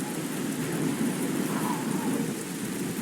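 Steady rainfall in the video game Oblivion, a constant hissing patter of drops with a low rumbling undertone, even and unbroken throughout with no voices.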